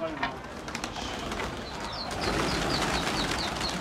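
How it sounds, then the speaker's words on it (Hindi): A flock of pigeons coos close by as several take off and fly around, with soft repeated throaty cooing over a steady background rustle. "देखिए भाई पाँच कबूतर भाग रहे हैं"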